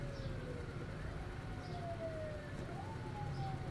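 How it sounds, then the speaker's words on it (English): An emergency siren wailing outside, faint and distant, its tone slowly sliding down and rising again over a low steady background hum, with faint chirps over it. "I'm going to mute my microphone for that siren"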